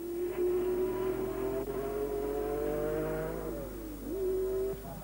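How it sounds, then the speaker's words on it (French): A Lotus 49 race car with a DFV engine accelerates during practice at Monza. The engine gives a loud, sustained whine that climbs steadily, drops sharply as the gear changes, then rises again, with no talking. "Tandis que Clark s'élance pour les essais, je me dis que si le moteur DFV peut briller"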